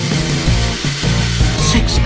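A power drill bores a hole for a hose, giving a short, harsh burst of grinding and whirring while a voice speaks faintly in the background.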